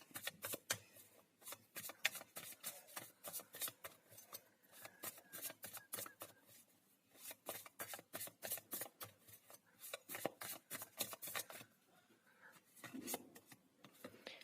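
A deck of tarot cards being shuffled by hand in a quiet room, with steady rapid riffling and flicking bursts that pause briefly and resume, close and fairly soft, with no talking.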